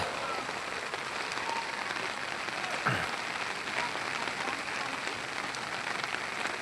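Steady rain falls outdoors in Ozamiz City, Misamis Occidental, a dense even hiss on surfaces that continues throughout with one brief sweep partway through.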